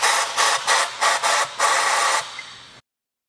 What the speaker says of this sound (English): go through and blow out each of those holes